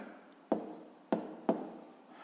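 A pen writes on paper during a fifth-grade maths exercise, giving three distinct quiet strokes spaced about half a second apart in a hushed room.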